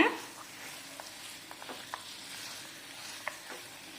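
Coconut milk sweet with fried cashews stirred in a pan, a soft continuous sizzle with scattered light scraping ticks of the spoon against the pan, steady and close, no voices.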